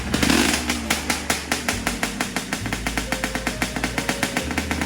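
A two-stroke motorcycle engine, with a Yamaha DT125 and Suzuki X4 named, catches and idles loud and close, its rapid, rhythmic popping pulses under occasional revving.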